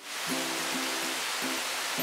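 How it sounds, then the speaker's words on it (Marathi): Steady, even hiss of monsoon rain falling outside, heard from a kitchen, a constant wash of sound with faint low tones recurring underneath. "बाहेर मस्त पाऊस पडतोय आपण पावसाचा आवाज ऐकू शकता"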